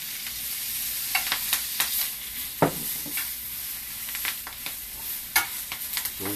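Mushrooms fry in oil in a pan under a steady hiss, pushed around with tongs that give scattered scraping clicks and taps, close up with no talking.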